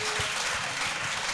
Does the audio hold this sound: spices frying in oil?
no